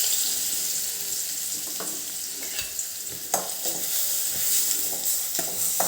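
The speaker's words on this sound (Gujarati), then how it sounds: "એને 1 કે 2 મિનિટ માટે આપણે સાંતળી લઈશું" Chopped onions sizzle and fry steadily in a pan with cumin, loud and continuous, while a spoon stirs now and then with soft scraping knocks.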